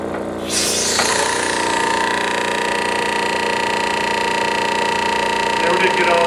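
A wood lathe with a vacuum chuck, its turning tool cutting off curly shavings, makes a close, steady, loud whir with a sustained tonal hum that runs the whole time after a sharp start.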